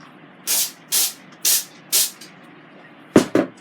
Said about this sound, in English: And spray the basket.